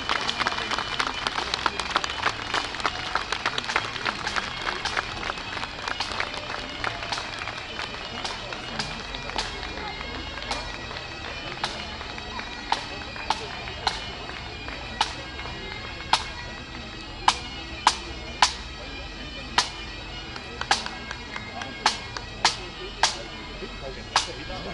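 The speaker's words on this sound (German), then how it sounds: "Etwas mehr Applaus." An outdoor audience at the Angelbachtal 2008 event applauds the Frankfurt Clan Pipers: dense clapping at first that thins out to scattered, sharp individual claps, with an announcer speaking over it.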